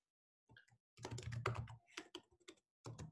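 Computer keyboard typing in close-up, bursts of rapid key clicks with a short pause in the middle of the run, no voices.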